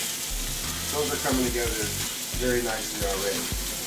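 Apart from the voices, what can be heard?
food sizzling in a frying pan while being flipped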